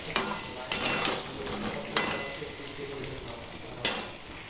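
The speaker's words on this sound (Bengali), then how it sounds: "আলুগুলো ভাজা হতে শুরু করেছে" Potato pieces frying over low heat in a pan for chicken curry, a steady soft sizzle broken by several sharp clinks and scrapes of a spoon stirring against the pan, close up, with no talk.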